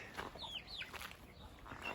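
Lohmann and Sussex hens cluck and give short rising calls, fairly close, with a soft farmyard background and no talking.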